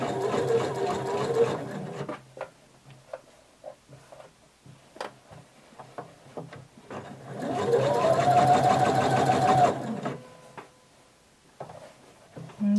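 Domestic sewing machine stitching a maxi dress at a regular 2.5 stitch length, two bursts of steady whirring, about two seconds and then nearly three, separated by soft clicks and handling of fabric, close and clear.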